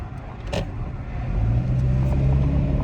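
A Toyota Tacoma pickup's 2.7L 3RZ four-cylinder, fresh from an ignition coil replacement, runs with a steady low rumble that swells slightly louder partway through, close and continuous, with no voices.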